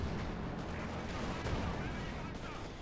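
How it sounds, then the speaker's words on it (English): Sustained gunfire and explosions from a Bulldozer Sherman tank in the real-time strategy game Company of Heroes 2, dense continuous battle noise at steady loudness with a brief louder burst at the end. "Bulldozer Sherman shoots."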